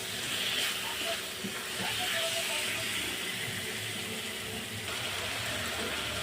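Water goes into a pan of frying tomatoes, raising a steady loud steamy hiss and sizzle that holds throughout with faint clatter beneath.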